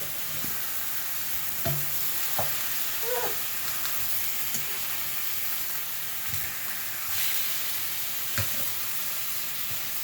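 Pork chops frying in a pan give a steady, fairly quiet sizzle and hiss throughout, broken by a few soft clicks and scrapes, with no talk.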